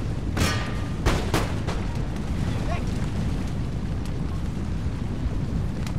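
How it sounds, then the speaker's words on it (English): Cannon fire booms across a battlefield in Empire Total War, a few heavy shots early on followed by a rumbling, noisy backdrop with scattered distant reports. "And I like my cannons to fire anytime soon"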